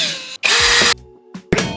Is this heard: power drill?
yes